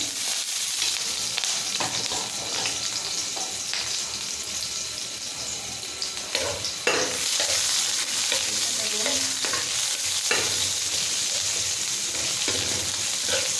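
Green chilies and chopped onion fry in a pan with a steady, close sizzle. Scraping stirs and clanks are scattered through it.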